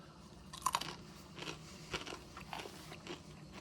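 Crunchy food from a halal MRE is chewed close up, with a steady run of crisp, crackling crunches and no talking.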